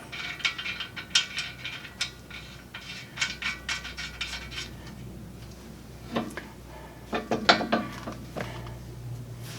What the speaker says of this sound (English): Got a little nut to put on here.